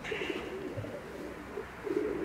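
A medium-to-large male racing pigeon coos close by in soft, low, throaty calls that repeat through the stretch over a faint steady hiss.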